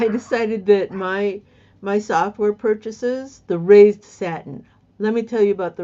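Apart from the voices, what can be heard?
None of the usual background noises is heard.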